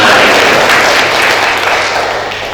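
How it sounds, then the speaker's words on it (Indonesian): An audience at a book discussion event applauds, a loud, dense clapping that holds steady and tapers slightly toward the end. "tepuk tangan"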